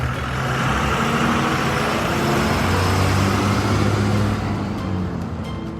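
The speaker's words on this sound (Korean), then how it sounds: "그때 대문 밖에서 낯선 차 소리가 들렸습니다" A car engine rumbles steadily close by, a low continuous drone with road noise that fades slightly toward the end.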